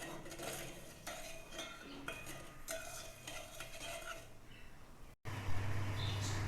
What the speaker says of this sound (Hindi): इसको चम्मच हिलाएंगे, नहीं तो चीटी नीचे चिपक जाएगी